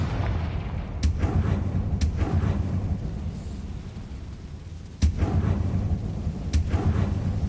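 The Confringo explosion spell in Hogwarts Legacy sets off a series of sharp, loud blasts, about four cracks spaced irregularly over a deep, steady rumble.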